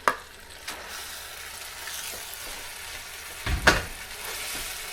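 Ramen noodles hit a hot pan with garlic and scallions, giving a sharp sizzle at the start and a steady frying hiss, with a clatter of stirring and tossing midway.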